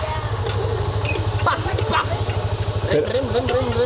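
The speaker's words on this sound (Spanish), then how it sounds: "Fíjate cómo llevo el tubo de escape de la moto, normal que suene así." A motorcycle engine idles with a loud, rough, throbbing exhaust rumble, steady throughout, with a voice speaking briefly over it.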